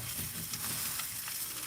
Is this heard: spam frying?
yes